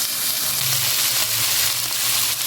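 Beef steak sizzling in a hot pan with chopped garlic, a steady close frying hiss running without a break and no talk over it.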